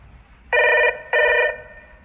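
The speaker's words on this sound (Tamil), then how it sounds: "மாமா ஃபோன் அடிக்குது" Telephone ringing indoors, two loud electronic rings in quick succession over a quiet room, no talk.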